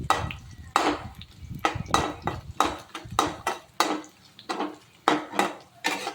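Roasted peanuts go into a pan for poha, sounding as a run of sharp, close metallic knocks and scrapes from a spoon against the pan, about a dozen irregular hits over a low background.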